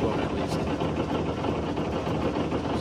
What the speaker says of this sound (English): so all the lids are rattling, and this is not an ideal RPM to run on this boat at least